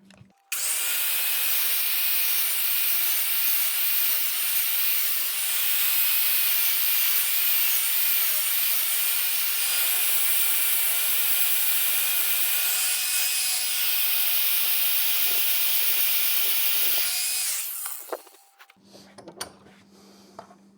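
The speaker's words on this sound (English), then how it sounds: "I'm going to go ahead and use this grinding cutoff wheel." A grinding cutoff wheel slices through material for an RC airplane stand, a harsh high-pitched continuous whine for about seventeen seconds before it cuts out and winds down, followed by brief light clatter.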